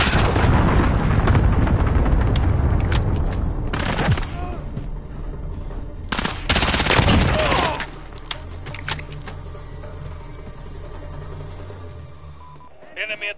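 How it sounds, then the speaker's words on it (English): Repeated booming blasts from an enemy cluster strike in a military shooter video game, dense and loud for several seconds with a second burst of explosions, then fading to a quieter rumble with background game sounds. "Enemy cluster strike incoming."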